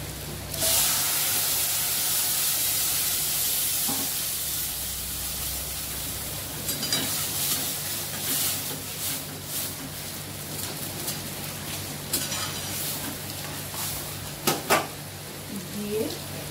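Water poured into semolina in a hot pan bursts into a loud hissing, steaming sizzle that settles into bubbling frying, broken later by clinks and scrapes of a utensil against the pan, with no voices.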